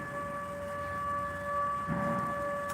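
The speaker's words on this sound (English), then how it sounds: "the sirens go and they found me out" A distant siren holds a steady, layered tone over low background rumble.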